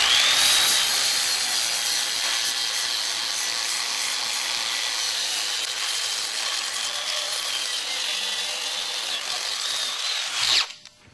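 Power grinder working rough edges of stainless steel boat propeller blades, a loud continuous high-pitched whine that runs steadily before cutting off near the end.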